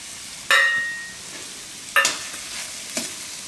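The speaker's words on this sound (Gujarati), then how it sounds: "તો થોડીક વાર પકાવી લે હું આને." Spinach and carrots sizzle steadily in a pan, with a few sharp stirring scrapes breaking through the constant frying hiss.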